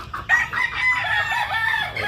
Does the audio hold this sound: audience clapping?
no